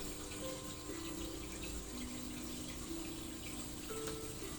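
A small stream flows among branches and stones, a faint, steady watery rush with light trickling detail continuing evenly throughout.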